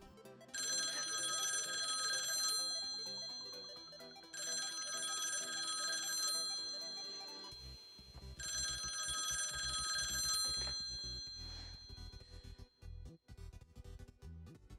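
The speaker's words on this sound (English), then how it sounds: "if we see a phone ringing, we expect to hear a phone ringing." A telephone bell rings in three long bursts separated by short pauses, loud and close, followed by a few seconds of low rumbling noise.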